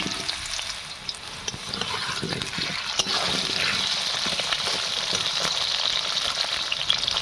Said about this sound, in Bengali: প্রথমে আমি আলুটা ভেজে নেব, তার জন্য কড়াতে তেলটা দিয়ে দিচ্ছি।